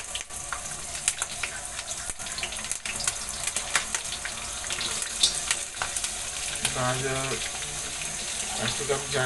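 Nuts frying and being stirred in a pan, a steady broadband sizzle with scattered clicks and scrapes, plus a brief stretch of other tonal sound near the end.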